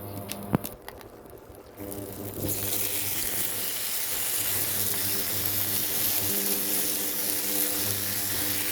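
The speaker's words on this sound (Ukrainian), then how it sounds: "Наші голубки підсмажаться на сковороді" Lazy cabbage-roll patties frying in hot oil in a skillet give a steady, close sizzle that rises after a couple of seconds and holds evenly, with no talking.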